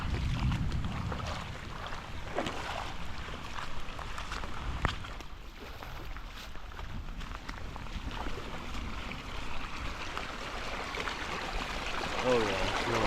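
Rainwater runs as a steady stream over mud and across a bike bridge outdoors, a continuous broadband rush and trickle close by, with occasional handling bumps and movement.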